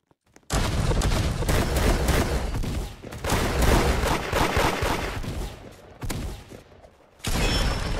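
Rapid bursts of gunfire in the Roblox game Da Hood, loud and close, with dense overlapping shots in stretches broken by brief pauses before the firing resumes.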